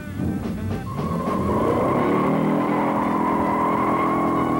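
A 1971 Ford Torino GT with the 429 Cobra Jet engine on standard G70-14 tires and a 3.50 rear axle accelerates hard, its loud V8 roar climbing steadily in pitch through a sustained full-throttle run.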